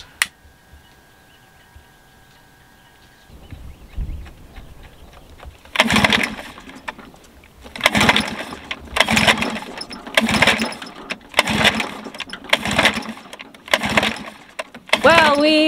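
A dinghy outboard engine on a sailboat is pulled to start after a quiet lull, then catches and runs in loud, rhythmic surging bursts that repeat roughly every second close by.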